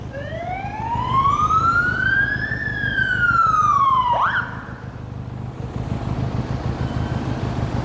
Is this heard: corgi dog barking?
no